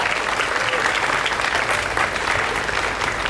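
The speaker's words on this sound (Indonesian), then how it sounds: "Tepuk tangan sekali lagi." Crowd applause at a university student orientation in Indonesia, dense continuous clapping from a large audience, loud and sustained with no break.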